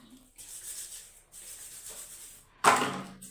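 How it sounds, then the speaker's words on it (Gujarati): Kitchen surfaces scrubbed with soap, bursts of rough rubbing and scouring strokes close by, separated by short pauses. "તો હાબું દઈ ઘસું છું"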